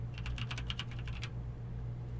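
A computer keyboard clicks through a short burst of about a dozen quick keystrokes as a command is typed into a Windows command prompt, then falls silent over a faint steady hum.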